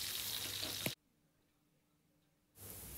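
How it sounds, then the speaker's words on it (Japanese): A saddle of lamb sears in a pan over medium heat with a close, steady sizzle that cuts out for about a second and a half, then resumes. "このまま火は弱めずに中火でじっくり全体的にカリカリになるように焼いていきます。"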